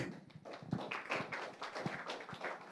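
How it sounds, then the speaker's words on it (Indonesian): A room of participants at an Alibaba Cloud Day training session in Bandung gives a steady, moderately quiet round of applause, dense clapping filling the whole moment with no voices. "Mari kita berikan tepuk tangan."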